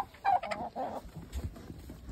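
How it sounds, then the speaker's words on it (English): Roosters from a backyard flock of about two dozen birds cluck and call in short bursts early on, fairly close, then quieter scattered noises and rustling follow. "So that's 22 roosters, which is mostly all roosters."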